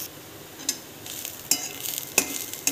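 Onions frying in a little oil while being stirred for a khandoli modak bhaji, a soft steady sizzle broken by a few sharp scraping strokes of a spoon against the pan, close up with no speech.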